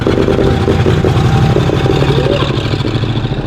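The engine of an abandoned Ford Mustang with a faulty carburetor runs loud and rough, with an uneven, throbbing idle and clattering close by that never settles.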